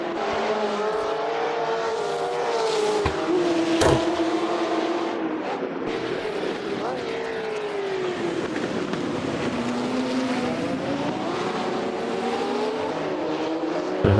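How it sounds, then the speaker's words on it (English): A 1966 sports car from the British Sportscar Championship at Oulton Park in a racing video game, its engine revving hard and steadily, with pitch rising and falling through gear changes over a continuous loud drone. "Build the revs up all the way up to"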